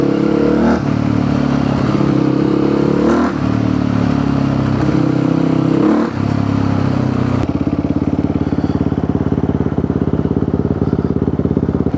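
A supermoto motorcycle with an FMF exhaust revs loudly up close, several rising blips giving way to a rough, rapid idle on a sunny day.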